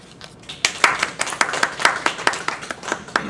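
Audience applause welcoming Professor Robert Holley to the podium at a talk, a run of distinct claps in a fairly even rhythm, building after a soft start and staying prominent throughout.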